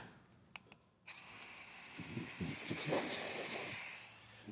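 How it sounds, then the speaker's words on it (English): A lens blower lets out a few small clicks, then a sustained, close hissing puff of air that continues steadily with faint rustles, with no talking. "I have a lens blower here, or"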